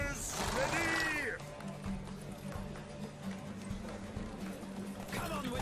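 Horse hooves clip-clopping at a gallop during a horse race in the video game Witcher 3, a steady drumming rhythm under a loud voice urging the horse on, with other game sounds throughout.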